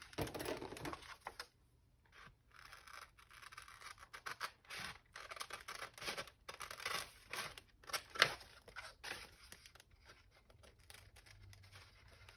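Scissors snip through paper around an image for a junk journal in an altered book, giving quiet, close, irregular cuts and rustles with short gaps between them.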